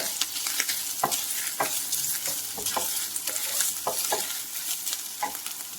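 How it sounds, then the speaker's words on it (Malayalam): A quarter of a grated coconut sizzles with onions in a pan, a steady close frying hiss broken by repeated scraping stirs, with no talk. "അതിലേക്ക് ഒരു 1/4 മുറി നാളികേരം ചിരവിയതാണ് ഇട്ട് കൊടുക്കുന്നത്. ഇത് നല്ലപോലെ ഒന്ന് ഉള്ളികളുമായി യോജിച്ച് വരണം."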